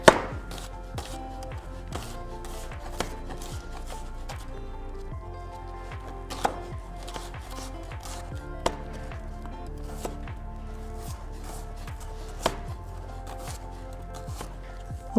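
A knife roughly chops onion on a cutting board in a home kitchen, giving a steady run of sharp, close taps with several louder knocks against a low background hum.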